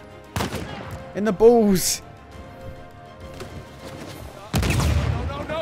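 Video game gunfire in Uncharted 4, with a few sharp shots and bursts breaking through and a heavier blast near the end, while someone talks over the action.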